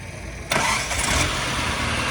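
A battered Mazda 323's engine cranks and catches about halfway in, then settles into a steady idle, close by and fairly loud.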